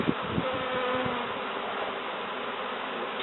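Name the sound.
bees buzzing inside a sofa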